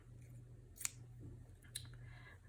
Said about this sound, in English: I'll cut usually a very gauzy fabric